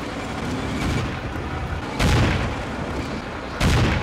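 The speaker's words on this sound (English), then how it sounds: "Almost have to survive two shots from the American anti-tank gun." Anti-tank gun fire in the World War II strategy game Combat Mission: Afrika Korps, with two loud booming shots about a second and a half apart over a steady rumbling battle background.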